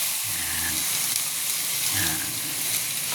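Loud, steady sizzling hiss from native chicken curry with carrots frying in a pan after water is poured in, continuous and close.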